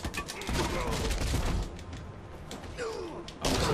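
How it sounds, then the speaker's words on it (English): Gunfire in Batman Arkham Knight, heard as dense, loud bursts of shots and impacts with a short lull in the middle before another loud burst at the end. "This is the Batman who carried a gun"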